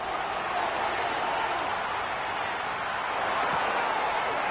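A large football stadium crowd at a Browns versus Bengals game roars steadily, a dense and loud wash of noise that holds without pause throughout.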